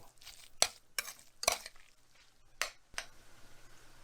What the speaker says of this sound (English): let's give it a little stir. See here? Just stir it up.